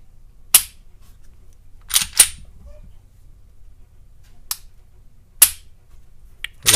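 A Taurus PT111 G2 pistol being dry-fired after a trigger job, giving sharp, crisp metallic clicks heard close up, spaced irregularly with a few quick pairs, alone with no talking.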